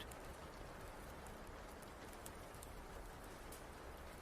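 Soft, steady rainfall outside a cabin makes an unbroken wash of patter with occasional light droplet ticks, calm and even from start to finish, with no speech.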